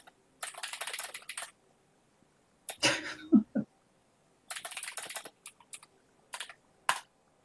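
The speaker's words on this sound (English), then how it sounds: "You know what you really need to do is get a quieter keyboard." Loud, clacky mechanical computer keyboard typing in rapid bursts, close and dry, separated by pauses with a short cough or throat noise in the middle.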